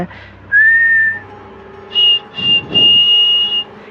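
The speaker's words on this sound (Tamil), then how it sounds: "இந்த விசில் சத்தத்தோடையே இந்த படத்தையும் முடிக்கிறாங்க." Whistling at the close of the film 13 Exorcisms, a few clear, eerie sustained notes in short separate phrases, loud and near, with a low rumble underneath.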